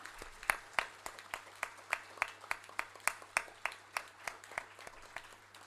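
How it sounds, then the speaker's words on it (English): Sparse, slow clapping at a government tech report launch event: roughly twenty distinct claps in an even rhythm, fairly near and thin rather than a full crowd roar, over a low electrical hum. "Let's give them a round of applause for the amazing initiatives that they have taken."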